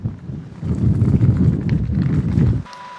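Strong wind outdoors in the Gobi desert of Mongolia buffets the microphone as a steady low roar of gusts for a few seconds, then drops off abruptly near the end.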